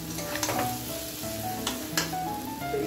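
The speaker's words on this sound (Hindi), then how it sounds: "इसे भूनने देते हैं अच्छे से" Masala and vegetables frying in a pressure cooker, a steady sizzle with stirring scrapes and a few sharper clinks of a spoon against the pot, no voices.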